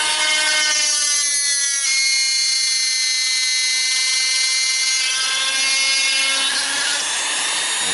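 A power carving burr grinds into a wooden walking stick with a high, whining rotary tone that holds steady, dips briefly in pitch, then rises again over several seconds.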